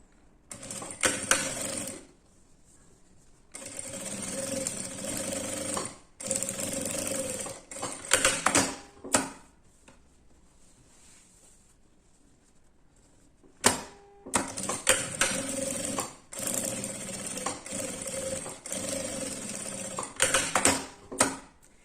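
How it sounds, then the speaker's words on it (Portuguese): A sewing machine topstitches both sides of a fabric piece in several bursts of steady, fast mechanical stitching, broken by short pauses and a longer quiet gap, close and loud throughout with no talking. "Agora eu passo uma costura de pesponto dos 2 lados aqui"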